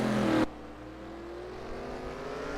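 An IndyCar race car engine in a racing video game on the St. Petersburg circuit roars steadily, with a loud burst at the start settling into a sustained engine whine.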